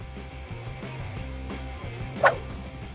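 Dog giving a single short yip-like bark during a reunion with its owner, a brief near sound over a quiet, murmuring background.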